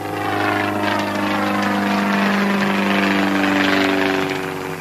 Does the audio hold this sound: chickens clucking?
no